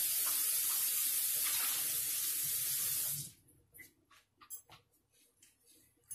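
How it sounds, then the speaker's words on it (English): Tap water runs loud and steady into a kitchen sink while a glass jar is rinsed, then cuts off abruptly, leaving a few faint clinks and splashes of the jar being handled. "you take some of that filter water and you rinse it out too"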